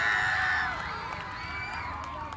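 A distant crowd cheers and shouts together, loudest at the start and then settling into a steady, softer roar of voices.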